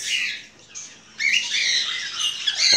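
Parrots, rosellas, cockatiels and parakeets screech in a small, clean breeding aviary, with harsh, overlapping squawks coming in continuous loud bursts close by and no talk.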